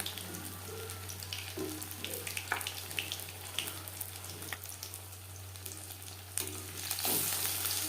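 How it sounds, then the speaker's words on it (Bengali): Fish pieces for fish butter fry shallow-frying in oil over medium flame, a soft continuous sizzle with scattered small crackles over a low steady hum, fairly faint throughout. "ফিস ফ্রাই ভাজবো লটু মিডিয়াম ফ্লেমে"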